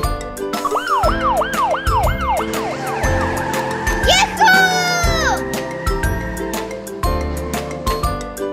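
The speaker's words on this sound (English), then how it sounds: "Flag, police car." A wailing siren sweeps up and down several times, fairly loud, over busy background noise and a voice.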